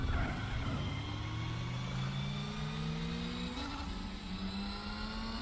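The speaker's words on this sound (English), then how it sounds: "this is one of very few cars in this game that has a four-cylinder with a racing exhaust that doesn't sound too bad" Toyota TRD Celica four-cylinder with a racing exhaust, driven in Gran Turismo 4, revs loudly and continuously, its engine note climbing through the gears with a brief shift break midway.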